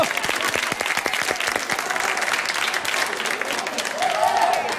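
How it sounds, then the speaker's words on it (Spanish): A television studio audience breaks into loud, close applause during an afternoon talk show, with crisp individual claps standing out early in the ovation and a voice rising briefly near the end. "Vamos a darle un aplauso a mi vejiga."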